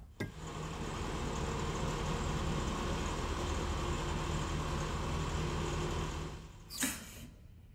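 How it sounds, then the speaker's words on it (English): A Chevy pickup truck being converted into a dump truck reverses in a driveway, its engine giving a steady, moderately loud rumble that holds for several seconds before a brief knock and a sudden drop to quiet. "Let's go ahead and back the truck up"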